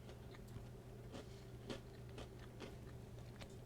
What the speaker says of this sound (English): I'm just munching away on this pizza.